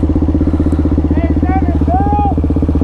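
A 2022 Suzuki DR-Z400SM supermoto motorcycle idles nearby with a loud, even, rapid single-cylinder thump. Voices talk over the engine outdoors among a crowd.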